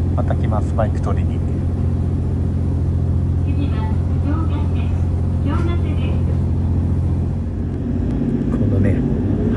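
A JR train pulls away from Suibara Station on the Uetsu Line with a steady, close, low engine rumble and hum that holds throughout, while people talk over it.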